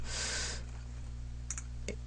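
Computer mouse clicks while selecting a download link for WAMP Server 2 on a website, a few faint, sharp clicks in a quiet room after a brief burst of noise at the start.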